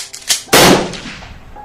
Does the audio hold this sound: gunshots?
yes